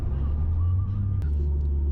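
Holden ute exhaust while driving, heard from inside the cabin as a loud, steady low drone with a slight shift in pitch partway, continuous throughout.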